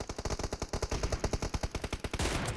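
Automatic gunfire in the mobile battle royale game PUBG Mobile, a rapid burst of evenly spaced shots lasting about two seconds, loud and close, followed by a brief rushing blast.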